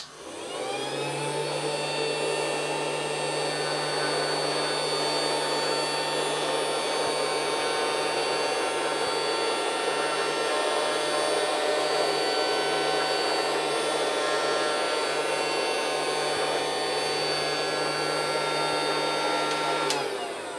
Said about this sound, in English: let's turn the suction motor on and see how effective it is at removing them all